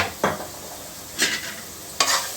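Rice vermicelli fries in a pan with red chilli sauce and spices, a constant sizzle broken by three sharp scraping stirs of a spoon against the pan, close and fairly loud.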